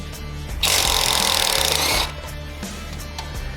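A power tool removing bolts from a Jeep JL front bumper whirs loudly for about a second and a half in one burst, then cuts off, leaving a low background hum.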